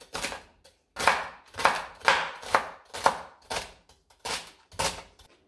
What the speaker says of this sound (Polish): Każdą z łodyżek selera przecinamy na pół wzdłuż, a następnie kroimy to w taką kosteczkę.